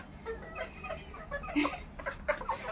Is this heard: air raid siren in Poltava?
no